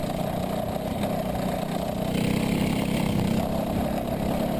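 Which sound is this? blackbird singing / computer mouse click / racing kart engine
racing kart engine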